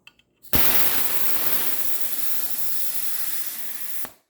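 Loud, steady rush of air hissing out under pressure as a 2-gallon, 135 psi Master Force ultra quiet air compressor tank is bled, about three and a half seconds, starting abruptly with a click and cutting off sharply.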